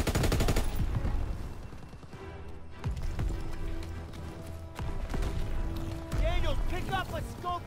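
A light machine gun in Call of Duty WW2 fires loud rapid bursts at the start, with more gunfire and battle noise continuing through the scene and voices heard over it.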